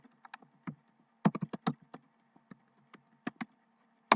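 Keys tapped on a computer keyboard while entering general journal entries in Sage 50 accounting software, sparse quick clicks in uneven bursts with a few firmer strokes like the enter key, close and fairly quiet.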